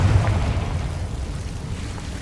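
A Confringo explosive spell going off in Hogwarts Legacy: a heavy booming blast at the start that decays into a low rumbling tail, fairly loud and alone.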